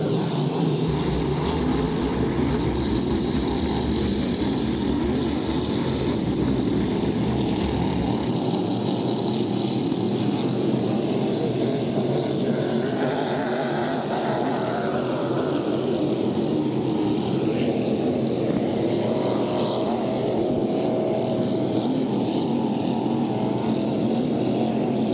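A loud, steady roar of three racing boat engines contending for the lead at Brockville drones on without a break, its pitch shifting slightly as the boats run.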